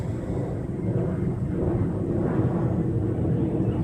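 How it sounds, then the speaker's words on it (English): A steady, broad low roar of jet engines from airplanes taking off at a local airport at night runs throughout, loud and continuous with no talking. "I love sitting out here at night watching the planes take off."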